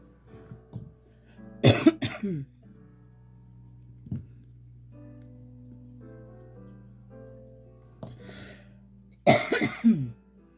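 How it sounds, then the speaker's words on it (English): A few sharp coughs break a quiet room, one burst early, a small one in the middle, and a louder cluster of coughs near the end. "I have a tickle cough"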